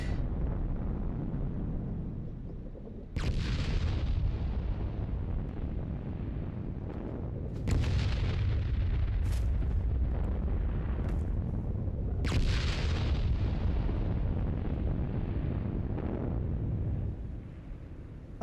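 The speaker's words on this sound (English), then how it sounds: "Airstrike." Airstrike explosions in Fallout 76 rumble through a steady roar, with several heavy booms landing a few seconds apart, each a sudden loud blast fading into a long low rumble.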